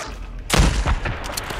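A shotgun blast booms in the Days Gone video game, one heavy, sharp shot followed by a short rumbling tail and a lighter crack after it, loud and close.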